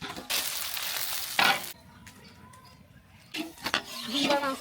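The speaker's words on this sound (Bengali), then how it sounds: "কড়াই গরম হয়ে আসছে এখন আমি দিয়ে দিচ্ছি রান্নার সাদা তেল দিয়ে দিচ্ছি" White cooking oil hitting a hot wok gives bursts of loud sizzling and crackling, a first burst, a quieter lull, then a renewed hissing flare, while a mutton dish is cooked for residents of an old-age home.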